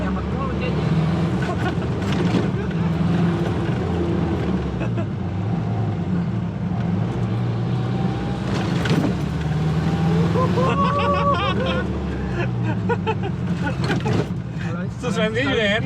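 A Toyota Taft with a tuned turbo drones steadily while driving, its low engine rumble and road noise continuous throughout, with people talking in the car over it.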